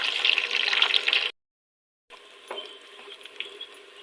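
Whole dried red chillies and garlic fry in hot oil with a bright, dense sizzle that cuts out briefly, then returns softer with light crackles.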